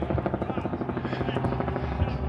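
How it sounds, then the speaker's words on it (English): A helicopter passes overhead above a Philadelphia park near the Rocky Steps, its rotor chop a steady rapid pulsing throb, loud and near throughout. "Why is the helicopter flying over us, Rick the Puppy?"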